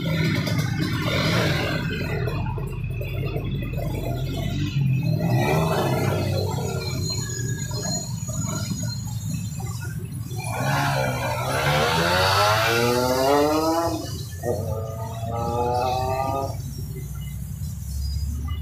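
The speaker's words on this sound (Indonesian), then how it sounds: "Cobain jalan, motornya didorong." A Kawasaki Ninja RR two-stroke motorcycle with home-tuned daily engine work, ridden on a test run, roars loudly and steadily throughout with rising revving sweeps toward the end.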